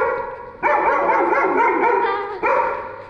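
A dog at a house gives two loud, close, drawn-out barks, each starting sharply and then fading, with no talk over them.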